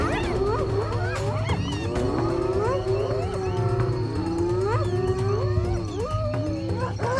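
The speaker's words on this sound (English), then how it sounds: "A painful scream echoes across the plains, and in that very moment, the battle erupts into absolute chaos." A lion and a clan of hyenas fight on open plains, with loud, dense whooping, yelping and screeching cries rising and falling over a rough growling rumble, continuous and close.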